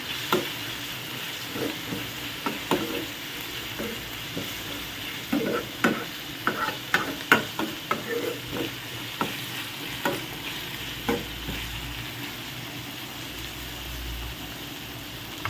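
Curry leaves, turmeric and cumin sizzle in oil in a pan for an egg curry, a low steady crackle beneath frequent scraping stirs and light taps of a spoon, some louder clusters midway, with no talking.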